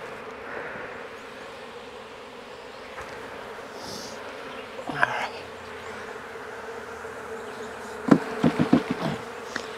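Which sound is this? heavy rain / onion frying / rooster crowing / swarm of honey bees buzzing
swarm of honey bees buzzing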